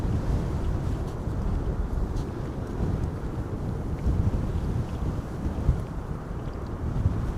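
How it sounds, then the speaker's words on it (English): Strong, gusty wind buffets the microphone at Amsterdam Schiphol Airport, a steady low roar with rumbling surges and no voices. "The wind is not slowing down yet."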